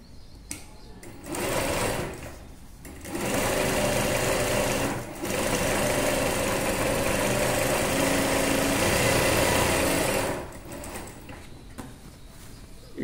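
A sewing machine stitches semi-patiala pants in a tailoring class. It runs in three close, loud bursts, brief at first and then a long steady whir of about five seconds, separated by short pauses.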